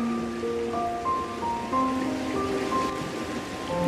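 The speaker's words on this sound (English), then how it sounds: "sitting beside this creek with me" A creek flows in a steady, continuous rush of water close by, with soft sustained musical tones layered over it.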